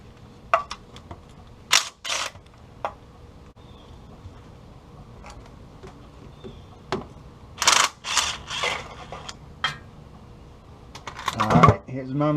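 A ratchet works oil pan bolts loose beneath a Willys L134 engine in a cramped space under the vehicle, giving scattered bursts of close metallic clicking separated by pauses, with some quiet movement between them.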